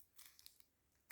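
Scissors snip off the corner of a piece while a jewelry box is being set up: a faint rustle, then one crisp, close cut near the end.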